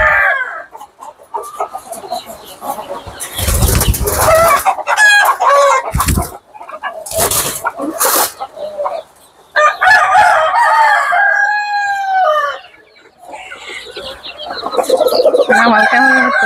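Chickens and roosters on a poultry farm cluck nearby, and loud crowing calls break in repeatedly over a busy, overlapping chorus of hens.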